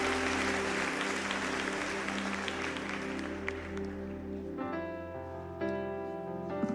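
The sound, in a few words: church congregation applauding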